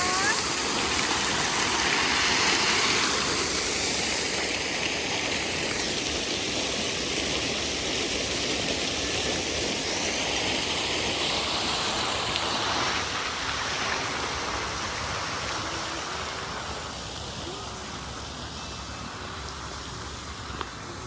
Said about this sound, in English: Waterfall, water fountain. This is called water fountain.